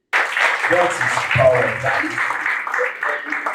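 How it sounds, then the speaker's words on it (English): An audience at an alumni talk breaks into applause, a dense burst of clapping that begins abruptly and continues while someone speaks briefly over it. "Can you please give a round of applause?"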